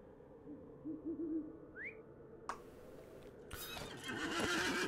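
Horse neighs in The Lord of the Rings Online, a short rising whinny heard once amid ambient game sounds, with a louder burst of noise following near the end.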